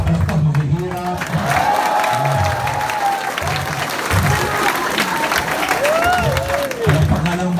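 An audience at a consumer empowerment orientation event claps loudly in a dense, sustained round, with cheers and a voice speaking over the applause.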